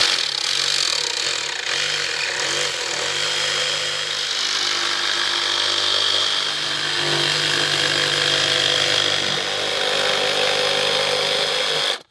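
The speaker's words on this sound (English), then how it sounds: "The bit's a little dull, or the blade is a little bit dull from cutting so much aluminum" A power saw with a dull blade cuts aluminum plate for welding, a steady, loud, continuous whine and grind with a rough metallic edge that holds throughout and stops abruptly at the end.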